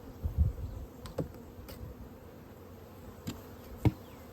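Honey bees buzz around open frames while mini mating nucs are stocked with nurse bees, a faint hum broken by a few close wingbeat bursts and light knocks of hive equipment.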